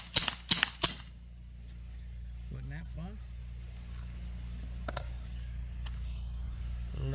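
Glock 19 BB pistol fired rapidly, three or four sharp close cracks in quick succession at the start, then quieter shuffling and brief tonal sounds with no speech.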